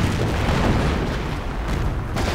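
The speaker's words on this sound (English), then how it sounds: "Further howitzer barrage going in on the enemy base." A howitzer artillery barrage in a real-time strategy game is a dense, continuous roar of overlapping booms and rumbles, loud and unbroken for a couple of seconds.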